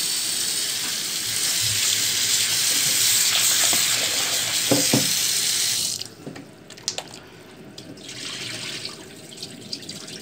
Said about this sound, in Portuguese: Vou só passar uma aguinha nele aqui para tirar o gelo.